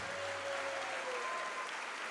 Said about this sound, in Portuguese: eu quero que você dê mais uma salva de palmas para aquele que te formou